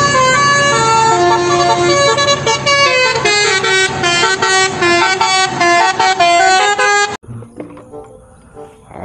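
A Mansion intercity bus sounds its musical horn, a loud multi-tone melody of rapid repeated notes for about seven seconds, then cutting off abruptly into quieter background noise.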